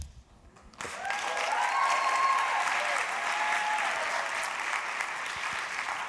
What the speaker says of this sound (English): That's actually applause.